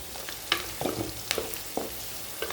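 Onions sizzling in a pan while cooking white rava, with a steady soft fry and intermittent stirring scrapes and crackles, close and fairly quiet.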